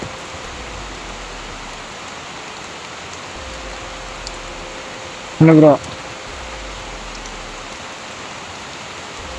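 Heavy rain pours in a dense, steady roar throughout, with a man's brief spoken question rising above it partway through.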